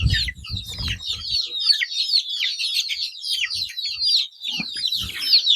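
Chickens cluck steadily against a busy background of chirping birds, with a few low thuds near the start and end.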